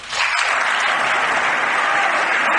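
Applause at a State of the Union address, as a large chamber audience claps loudly and continuously for a few seconds, a dense even roar of hands after a brief quieter start.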